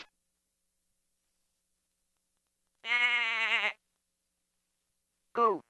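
A goat bleat from a 1994 Vtech Little Smart talking alphabet toy: one loud, wavering electronic bleat that stands alone, then a short second bleat near the end.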